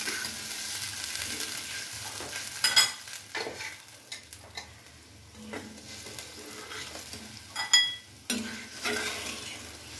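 Water and sugar bubble in a pan of curry with steady low sizzling and simmering, broken by a few sharper utensil scrapes and clinks against the pan, with no talking.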